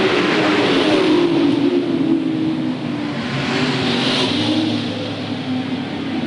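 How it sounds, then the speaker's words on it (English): Sportsman-class race cars roar around the Hales Corners Speedway oval during a 1993 feature race, engines loud and close with rising and falling revs as the field passes. "Rejoining the field, is car number 16, Pat Kinjerski."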